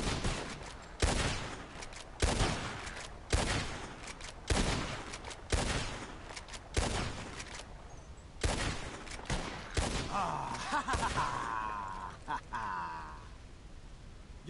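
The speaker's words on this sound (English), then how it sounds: "You shoot four birds out of the sky before me, you win." Gunshots fire at birds in the sky in a Western-style video game, about a dozen sharp separate cracks spaced roughly a second apart, with a short burst of other sound near the end.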